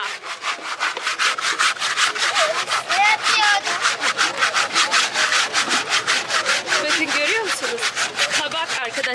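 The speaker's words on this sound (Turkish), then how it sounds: "normalde kabak bu. Böyle zımparalıyor." A calabash gourd is sanded by hand at a market in Niger, giving steady rapid rasping strokes of abrasive on dry gourd shell, loud and close, while a voice talks over it amid market background noise.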